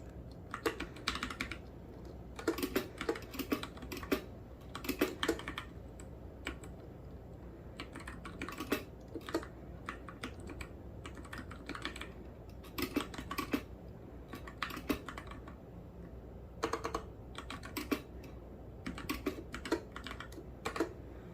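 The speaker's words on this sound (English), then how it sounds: "I'm typing so quickly because I'm getting what's in my head onto the device" Fast typing on the keyboard of a Freewrite smart digital typewriter, with close, crisp key clicks that come in quick bursts and short pauses over about twenty seconds, and no voices.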